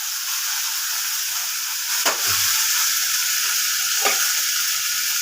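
Green chili paste sizzling and frying steadily in a hot pan for a green fish curry, a dense continuous hiss with two brief stirring scrapes, close and fairly loud.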